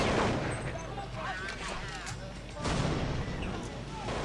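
Gunfire in Counter-Strike 1.6 during a WCG 2010 final match, rapid bursts of shots crackling continuously under an excited commentator talking over the action.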